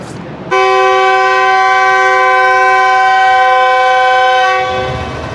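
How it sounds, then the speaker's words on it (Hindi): Powerful departing whistle of the GU40 9027 locomotive hauling the Shalimar Express in Pakistan, a single loud, steady horn blast held for about four seconds before fading slightly. "ये सुना जी आपने GU40 9027 का पावरफुल विसल"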